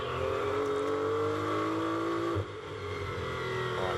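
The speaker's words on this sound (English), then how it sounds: "Right, downhill then comes the BMW." A BMW GT race car accelerates downhill at Brands Hatch in GT World Challenge Europe qualifying, its loud engine note climbing steadily through the gears before a sharp shift, with no talk over it.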